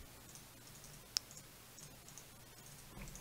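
A single sharp click in Minecraft's inventory, brief and fairly faint, over a quiet low hum with a few softer ticks afterward.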